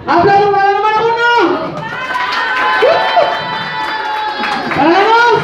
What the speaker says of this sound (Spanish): ¡Ven, porra! ¡Aplausos para la número uno!